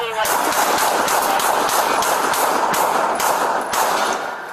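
Sustained, loud gunfire during a chaotic police shootout captured on a bodycam, a near-continuous barrage of close shots with repeated sharp cracks throughout.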